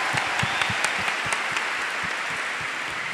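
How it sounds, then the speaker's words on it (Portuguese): Church youth gathering audience applauds for Campos Goitacazes, a dense, continuous round of clapping with distinct rhythmic claps poking through, filling the short stretch without talk. "Pode aplaudir, Campos Goitacazes."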